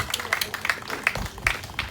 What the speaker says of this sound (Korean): 여러분들 박수 한번 보내주시면 좋겠습니다.